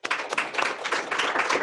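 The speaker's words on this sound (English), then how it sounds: "I'm clapping for myself." One person applauding himself, a short burst of quick, even hand claps at close range, alone with no talking.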